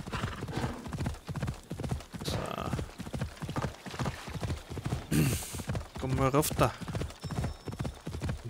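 Rhythmic clip-clop of hooves at a steady gallop in Assassin's Creed Odyssey, with someone talking over it and a brief whinny near the end.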